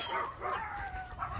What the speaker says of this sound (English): Oh, three little yappy dogs.